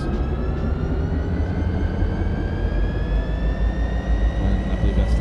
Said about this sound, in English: Love those engine sounds. My favorite kind of train right here is SD70 Ace.